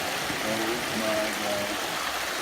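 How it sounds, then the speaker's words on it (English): A waterfall roars on a family hike, a loud, steady rush of falling water that fills the whole stretch while a voice speaks briefly over it. "I got inside the waterfall."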